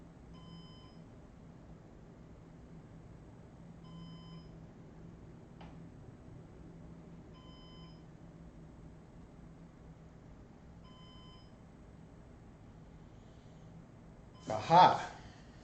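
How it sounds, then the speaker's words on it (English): An electronic device gives short, faint beeps at an even pace about every two seconds over a low background hum. A louder clunk comes near the end. "hope you guys like the beeping."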